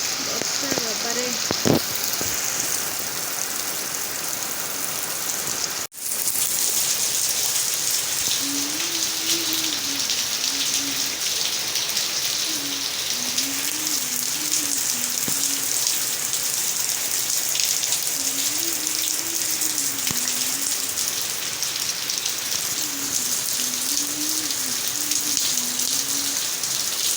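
Heavy rain drums down in a dense, steady roar that stays loud and close from start to finish, with a sharp knock near the start and a voice talking or singing intermittently over the downpour.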